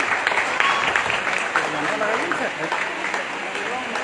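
Steady, dense clapping from a crowd at a network marketing gathering welcoming Surendra sir, sustained and fairly loud, with voices faintly audible underneath.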